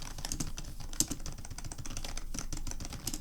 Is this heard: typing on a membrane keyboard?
yes